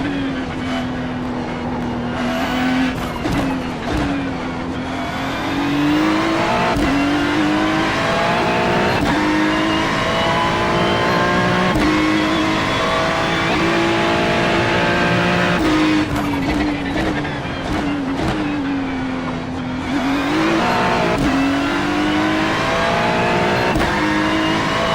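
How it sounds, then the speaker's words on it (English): A Porsche race car drives hard around a race circuit, its engine loud and close with rising and falling revs, gear shifts and sustained high-rpm roar over the full stretch. "driving that Porsche. Probably a perfect car for this circuit."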